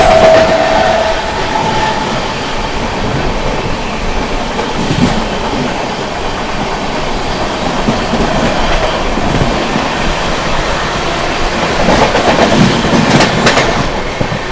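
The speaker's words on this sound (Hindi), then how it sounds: "सामने से आ रही है दोस्तों Hazrat Nizamuddin Vasco D gamma Goa express" The Hazrat Nizamuddin–Vasco da Gama Goa Express passes at speed, a loud, close, continuous roar of rolling wheels and rushing coaches with faint rhythmic rail clatter throughout.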